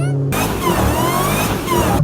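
A Dodge Hellcat drifting on a racetrack bursts in with a loud, high-revving engine roar that wails continuously, its pitch rising and falling, with hints of tire squeal.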